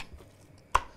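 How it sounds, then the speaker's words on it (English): A knife slices through the sinew of a raw steak on a cutting board, giving a single sharp, close cut with a quiet moment before it. "cut a little bit the sinew there"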